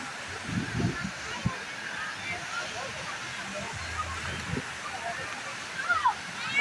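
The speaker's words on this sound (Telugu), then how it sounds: "బాగుంది కదా ఈ వాటర్ ఫాల్." Water spills down a small waterfall in River Park, Austin, a steady rushing wash with occasional splashes and low thumps, moderately loud and close throughout.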